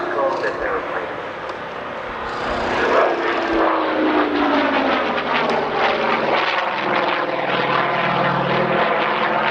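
Propeller aircraft flying past at the Ulster Airshow in Newtownards, a loud droning engine rising and sweeping overhead as its pitch falls, with a commentator talking over it throughout.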